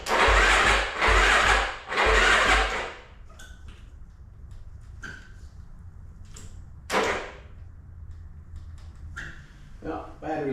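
Yamaha YFZ450 ATV with a dead battery failing to start: three loud, rough cranking bursts in quick succession, then a quieter stretch broken by scattered clicks and a few short knocks.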